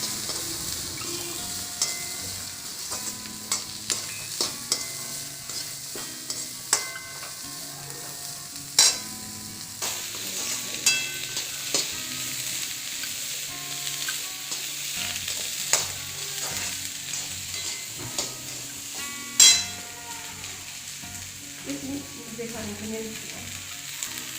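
Carrots, cauliflower and peas frying in a pan with onions, a steady sizzle close by with occasional clinks and scrapes of stirring, no talking over it.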